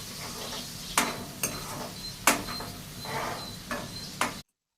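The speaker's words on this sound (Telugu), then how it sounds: "నేనైతే దీన్ని ఇప్పుడు కలుపుతున్నాను" Chicken curry is stirred in a pan, giving soft scraping strokes with a few sharper clicks over a low sizzling background, close and moderately quiet, ending abruptly in silence.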